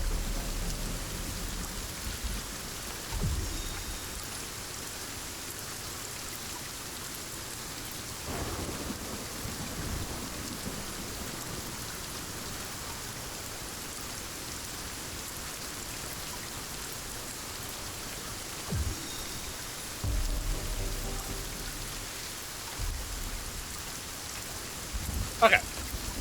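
Steady rain falls in the game Sons of the Forest, a constant hiss with several low thunder rumbles and cracks rolling in at intervals, the loudest clap near the end.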